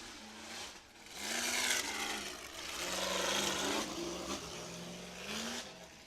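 Rock crawler off-road buggy on Yokohama tires at a rock crawling event, its engine revving and loading up in repeated surges, loud and close, with no talk over it.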